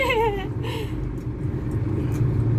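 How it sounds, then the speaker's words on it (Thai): A car accelerates and shifts into second gear. A continuous low engine rumble fills the whole moment, with a rising and falling whine near the start. "เร่งเลยแล้วก็ใส่เกียร์สอง"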